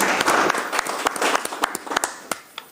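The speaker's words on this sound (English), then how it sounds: "give this Claremore Service Unit an applause" A small audience at a health committee meeting briefly claps for the Claremore Service Unit, with scattered individual claps that thin out and trail off into sparse, distinct hand strikes.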